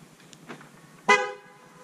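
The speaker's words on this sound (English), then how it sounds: "If I unlock the car, it makes a sound and the lights are on." A Volvo V90 Cross Country gives a single short chirp as it is locked or unlocked, a brief bright tonal beep, fairly close, standing alone against a quiet background.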